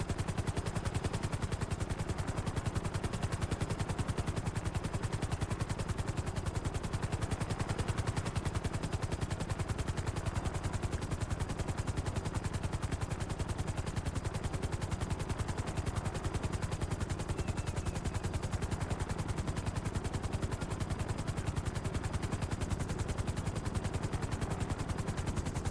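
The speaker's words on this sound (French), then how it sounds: "Je suis pas très doué pour poser un hélicoptère." A helicopter in Grand Theft Auto V beats with a fast, steady rotor chop that stays loud and constant throughout, with no talk over it.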